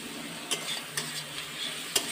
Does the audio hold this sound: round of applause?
no